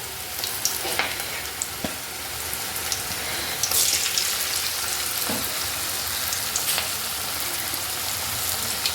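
Cabbage bajji (pakoda) fry in hot oil on a rainy-season day, giving a steady, close, bubbling sizzle with scattered sharp crackles and pops, and no voices.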